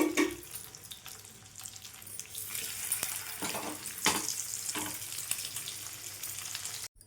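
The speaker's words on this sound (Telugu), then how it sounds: "ఇవి కూడా సేమ్ ఇదే విధంగా ఇదే ఆయిల్లో వేయించుకోండి" Flat bean pieces (kanagattalu) fry in hot oil with a steady, loud sizzle that runs the whole stretch, sharp crackles and a few stirring knocks breaking through, with no voices.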